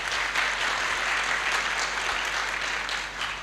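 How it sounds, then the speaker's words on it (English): A conference audience gives a continuous round of applause, a soft, even wash of many hands clapping at a distance, with no voices over it. "Give yourselves a round of applause."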